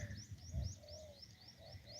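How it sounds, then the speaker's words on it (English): Birds call outdoors in nature, with repeated short rising chirps at a regular pace, a low cooing pigeon or dove beneath them and faint ambient rumble. "Birds, yeah, dude."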